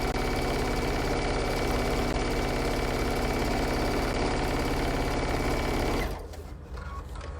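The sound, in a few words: sewing machine hemming a fabric bunny bag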